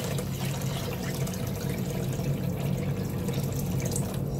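Water pours steadily into a cooking pot for pancit in a small kitchen, a continuous soft splashing and trickling, close and fairly quiet, with no talk.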